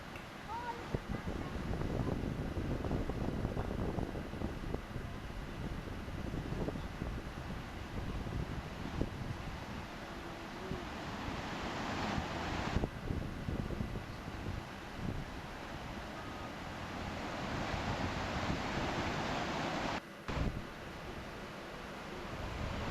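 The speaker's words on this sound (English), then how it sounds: "Look at the river flow." Heavy rushing water of a flooded river in Sheffield roars continuously, broad and steady, mixed with wind buffeting the microphone.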